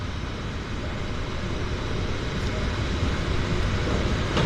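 A Beaver floatplane at a Vancouver float base, a steady broad drone of its engine under a faint voice, holding fairly even and rising slightly toward the end.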